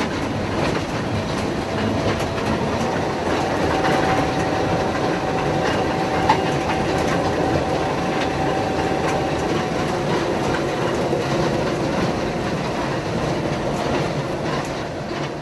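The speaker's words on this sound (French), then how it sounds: "inexorablement le petit train se hisse, bercé par le ronronnement des moteurs" Small alpine rack train climbing a mountain line, its motors humming steadily under continuous clickety-clack of wheels on rails, a sustained rolling rumble with faint squeals, no voices.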